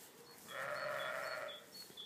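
A sheep bleats on a farm during lambing season, one sustained, fairly close bleat rising out of quiet surroundings before fading away.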